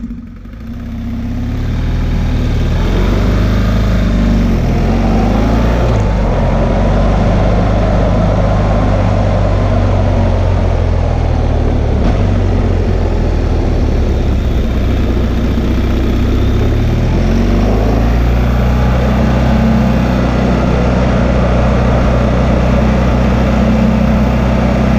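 A motorcycle runs steadily at about 25 mph during a hard-stop braking exercise, its engine a loud, continuous drone that dips and shifts pitch as it slows, with no talking.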